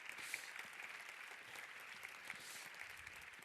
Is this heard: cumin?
no